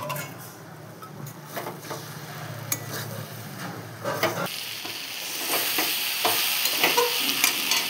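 Ground bori, poppy seeds, dried chili and cumin being stirred in a frying pan: soft scraping and clinks at first, then a louder sizzle and spatter that builds near the end, with no voices.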